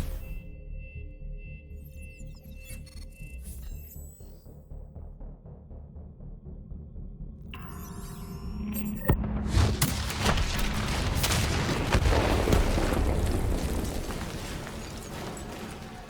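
Call of Duty: Black Ops III campaign combat: a quiet, eerie stretch gives way to heavy detonations and a sustained roar of blasts and gunfire that grows loud and dense in the second half.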